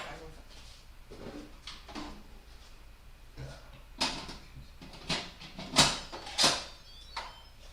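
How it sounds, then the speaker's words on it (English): A lid is set onto a pot of rice and water, giving several short clanks and knocks close by, with a few louder sharp clatters near the end and quiet background noise between them. "All right, and then we're gonna put our lid on it."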